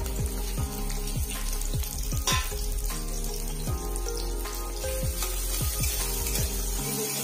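Onion frying in a little olive oil for a one-pot mixed vegetable dish, a steady close sizzle with small crackles and pops all the way through, with no talk.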